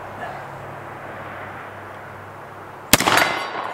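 A single loud report from a Desert Eagle MKXIX .50AE pistol fired at a 60-yard silhouette target outdoors, a sharp blast with a short rolling echo after a quiet stretch of ambient hiss.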